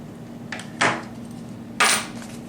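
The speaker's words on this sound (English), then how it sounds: "What I'm going to do is go ahead and cut off the belt buckle part." Cutting the buckle off a braided nylon belt for a homemade gym squat pad: two sharp, close cutting snaps about a second apart over a faint hum, with no talking.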